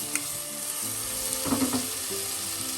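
Ginger, garlic and green chilli paste fries with whole spices in a pan for a Kerala-style chicken curry, giving a steady close sizzle with a brief louder crackle and scrape of stirring midway.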